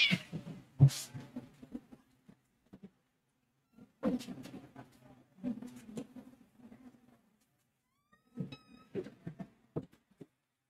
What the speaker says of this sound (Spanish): Pero está aquí el gato.